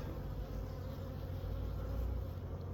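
A honeybee colony flies around an opened hive, making a dense, steady buzz of many wings that stays close and loud throughout with no talking.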